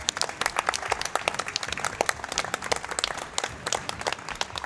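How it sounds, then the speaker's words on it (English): A crowd at a speedrunning charity event gives a sustained round of dense, lively clapping for a player that stays steady throughout. "English Ben, round of applause for English Ben"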